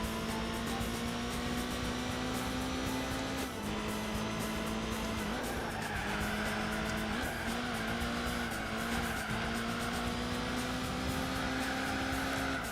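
Race cars in the Gran Turismo 4 video game, among them an Alfa Romeo, roar continuously with a steady engine whine that shifts pitch through gear changes, with tire squeal and skidding mixed in.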